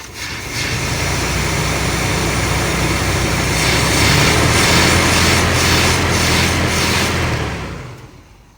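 A steady, rough engine rumble from a 1979 Buick running continuously at idle, loud and close, fading slightly at the end.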